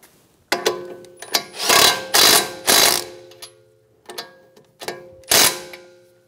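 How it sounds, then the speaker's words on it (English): A ratchet wrench clicks in short rapid bursts while snugging a tie rod end nut onto the knuckle of a 2013-2017 Honda Accord, with about eight close, loud spurts separated by pauses. "Thread your nut on. Then we'll snug it down."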